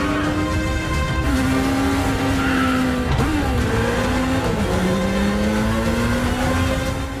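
Inline-four motorcycle engine note dubbed over a BMW R nineT Scrambler in a Mission Impossible Fallout chase, loud continuous high-revving whine with pitch dips at gear shifts, under dramatic traffic and tire noise.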